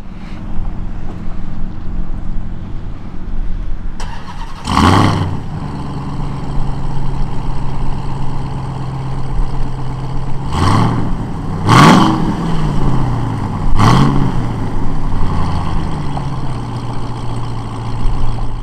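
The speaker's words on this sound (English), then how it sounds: "Let's get an exhaust note real quick for you guys" A 2021 Ram 1500 TRX Launch Edition pickup's engine idles steadily with a deep rumble, then revs sharply several times, each blip rising and falling back to idle.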